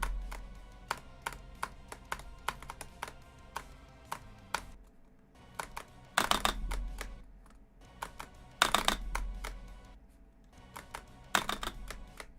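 Rapid, hard mouse-click spamming during a live game stream, sharp clicks in fast irregular runs with several denser, louder bursts, close and alone with no speech.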